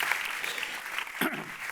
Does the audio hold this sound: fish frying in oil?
no